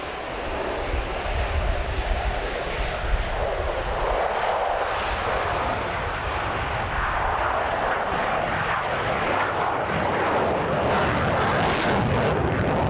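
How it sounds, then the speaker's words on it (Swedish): Loud jet engine roaring steadily, a rough broadband thunder that builds and rumbles as a Saab AJS-37 Viggen fighter makes a tailwind takeoff at Ärna. "AJS-37 Viggen. I medvind start."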